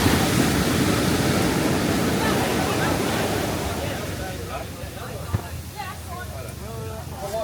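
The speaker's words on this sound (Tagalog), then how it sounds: "Ang lalaki ng alon." Steady roaring surf of big ocean waves in Bali, loud and continuous at first and gradually easing, with faint voices in the background.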